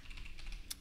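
Quiet keystrokes tapped on a computer keyboard, a short run of soft clicks ending in one sharper tap, close and faint.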